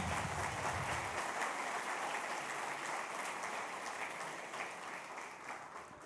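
Church congregation applauding the Lord during a sermon, a steady broadband wash of clapping that holds evenly throughout and softens slightly toward the end.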